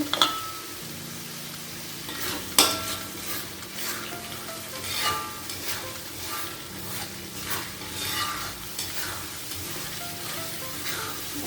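Chili paste fries in oil with lime leaves and lemongrass, giving a continuous crackling sizzle. Occasional spoon strikes and scrapes against the pan cut through as it is stirred. No voices are heard.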